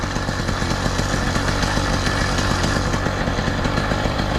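A small two-stroke motor on a Cranbrook motorized bicycle runs close by with a loud, buzzing, rapid rattle, steady and unbroken while the rider holds the brake.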